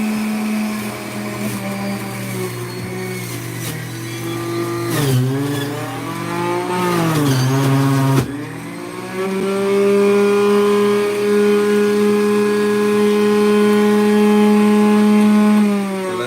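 A loud juicer motor whines steadily up close, its pitch dipping under load and recovering, cutting out briefly midway before running on.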